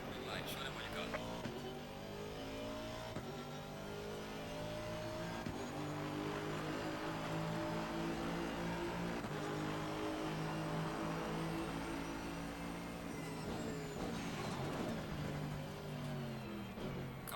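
Race cars lapping the Zandvoort circuit in the rFactor 2 sim, several engines droning and revving together at close range throughout, with a spotter voice calling traffic over the engine noise.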